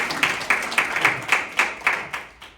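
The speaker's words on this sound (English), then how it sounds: "If you keep applauding, I'll stay here." An audience at a mayor's council meeting claps in a steady rhythmic beat, with each sharp clap evenly spaced. The claps are moderately loud and close, with no talking over them.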